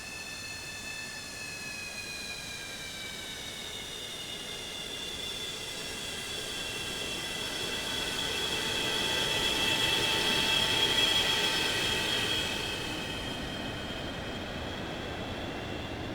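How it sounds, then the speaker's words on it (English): Boeing 727 jet engines in the FlyJSim flight simulator, a steady whining roar with layered high tones that swells slightly midway before settling, with no voices. "The engine sounds are pretty nice."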